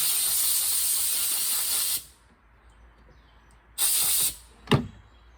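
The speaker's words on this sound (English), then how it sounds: "compressed air, it makes the job a lot quicker and better" Compressed air blasts loose coffee grounds out of the upper burr of a Baratza Encore grinder, two strong hissing bursts of about two seconds each, then a brief sharp puff, with quiet gaps between them.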